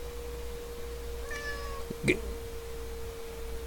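A pet cat named Ralph gives a single short, close meow over a steady electrical hum, followed by a sharp click.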